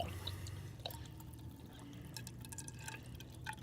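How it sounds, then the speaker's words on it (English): Beer wort poured back into a mash tun against its walls, a faint, close, steady trickle and splash of liquid with scattered drips. "I'm gonna pour it back in on the walls of the mash tun until this pours out clear"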